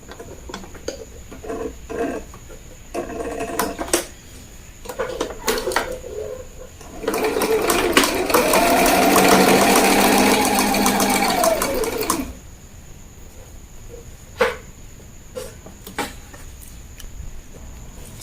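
A sewing machine stitches a boning channel on the back bodice of a corset in one steady run of about five seconds, loud and close, with softer clicks and handling noises before and after.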